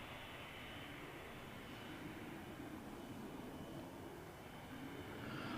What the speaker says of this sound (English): Next arrival, just in the distance, coming in from Hamburg, another EasyJet